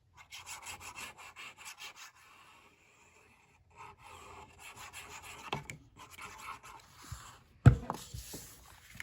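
Paper pocket page of a floral spring scrapbook mini album being burnished by hand, a series of soft rhythmic rubbing strokes, then a pause and a few scrapes ending in one sharp tap.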